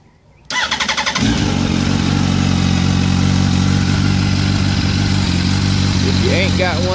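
A 2005 Yamaha R1 sport motorcycle fires up after a brief quiet moment, its engine settling into a loud, steady, close idle that carries on to the end.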